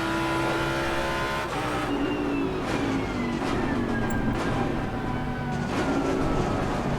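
A GT3 race car in Assetto Corsa Competizione accelerates hard through the gears, its engine note climbing and dropping with each shift, loud and continuous, with another car audible nearby.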